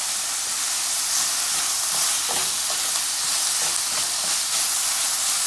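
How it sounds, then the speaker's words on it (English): Guyanese Bangamary stew being stirred in a pot, a steady bed of sizzling and hissing with soft scraping strokes scattered through it, close and continuous, with no voices. "And then we want to stir this up a little."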